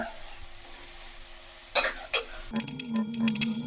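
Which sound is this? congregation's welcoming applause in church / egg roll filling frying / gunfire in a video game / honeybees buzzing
egg roll filling frying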